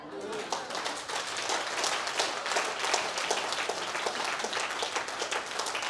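A live audience at a Teachers Day 2023 talk in Lucknow claps steadily, a dense, even wash of applause lasting several seconds without pause.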